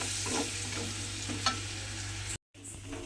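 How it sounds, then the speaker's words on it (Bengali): Short burst of close sizzling from garlic frying in a pan, with a spoon scraping as it is stirred, briefly cut to silence near the end. "এবারে রসুনটা দিয়ে আমি একটু নেড়েচেড়ে ভেজে নেব"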